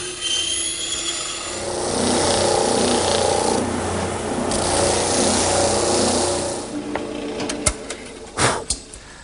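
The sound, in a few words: bandsaw tapering the ends of wooden cleats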